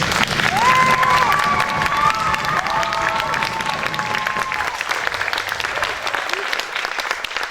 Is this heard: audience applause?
yes